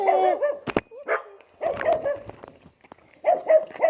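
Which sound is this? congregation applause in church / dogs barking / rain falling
dogs barking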